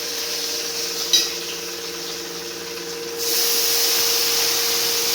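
A spice paste of ginger, tomato and onion fries in a pan, a steady, close hissing sizzle that grows louder partway through, with no talking.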